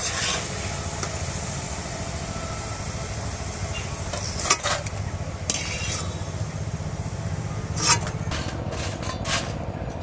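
Homemade sun-dried potato chips fry in hot oil with a steady, dense sizzle, broken by a few sharp scrapes and clinks as they are stirred around the pan.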